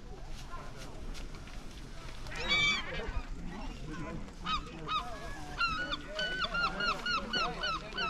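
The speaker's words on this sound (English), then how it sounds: "Look at that gull in that bloody bucket." Gulls call at a beach in a series of sharp, repeated cries that grow frequent in the second half, fairly close and over steady wind and background murmur.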